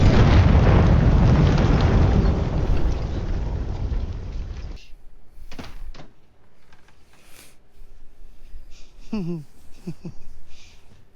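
Explosions in an episode of The Boys: a loud, dense roaring blast rumbles continuously for about five seconds, then cuts abruptly to a quieter scene with faint scattered sounds and a brief voice.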